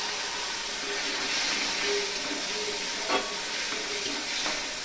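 Water hitting hot masala sautéing in a frying pan for a boiled egg and flattened rice breakfast dish, a continuous loud sizzle and steamy hiss with faint stirring scrapes and a couple of brief clinks.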